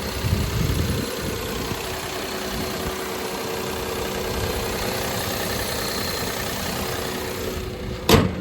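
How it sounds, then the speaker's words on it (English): A Daihatsu Mira Gino's three-cylinder engine idles steadily and close by with a low, even drone. A brief knock or handling sound comes near the end. "Let me show you what this 3-cylinder looks like running."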